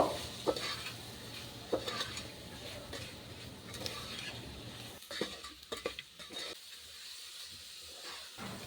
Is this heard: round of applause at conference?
no